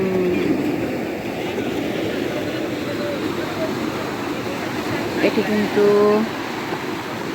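Morning sea waves roll onto the beach at Cox's Bazar, a steady, continuous surf wash filling the whole stretch while a person talks over it.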